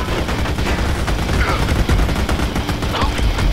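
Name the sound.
gunfire from the video game Army of Two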